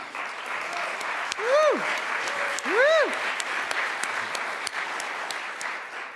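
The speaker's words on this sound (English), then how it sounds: "So round of applause for Craig." Audience applause at an academic award lecture, a steady crowd of clapping hands with two rising-and-falling whistles cutting through and a few sharper claps standing out.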